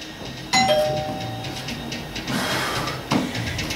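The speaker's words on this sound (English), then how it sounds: "You need to keep working through the doorbell." A doorbell chimes once with a clear electronic ding, then hums faintly under a quiet room. A second brief chime tone sounds near the end, close and moderately loud, with no talk.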